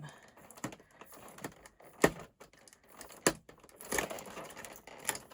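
Collector's edition packaging for Resident Evil is torn open by hand, giving close, soft crinkles and scattered sharp rips and snaps at an uneven pace, with no talking.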